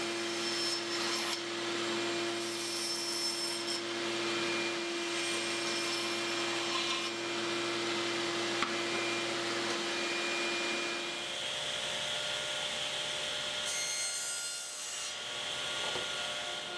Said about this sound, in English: I figure if a saw blade gets in this fabric, it could rip it to shreds